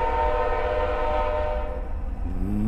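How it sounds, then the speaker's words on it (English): A train passing right outside a house in a wooded area sounds a loud, sustained multi-tone horn that dominates the scene, with a heavy rumble underneath that fades slightly near the end. "I know you can hear that. That is so loud. That is so loud. You have got to hear those trains."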